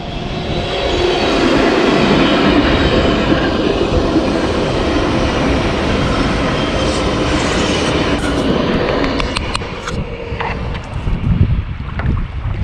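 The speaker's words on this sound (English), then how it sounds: "as the train comes down the track" A train rolls past on an isolated rural railway line, with a loud, steady rumble and rattle of wagons close by that fades slightly toward the end.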